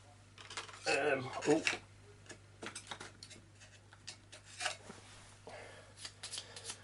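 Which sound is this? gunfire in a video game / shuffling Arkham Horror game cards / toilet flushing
shuffling Arkham Horror game cards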